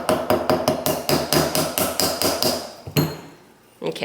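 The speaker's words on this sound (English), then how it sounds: "I'm going to get the little nylon side of my tiny hammer and just tap it on until it's down far enough it will spin again" The nylon face of a tiny hammer taps a part on a Singer 201 vintage sewing machine in a quick run of about a dozen sharp, close knocks. The tapping stops briefly, then one more tap follows.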